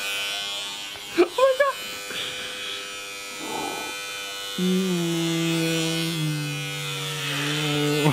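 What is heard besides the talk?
electric razor shaving hair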